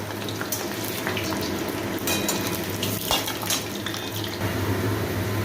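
Onion and tomato lightly frying in hot oil in a pan give a steady, fairly loud broadband sizzle, with occasional clinks of a utensil against the pan and no voices.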